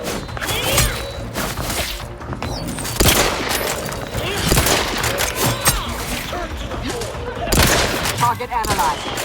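Gunfire in The Outer Worlds 2, with bursts of shots and heavy impacts crashing out in an irregular firefight, some loud and close, mixed with clattering hits and game voices.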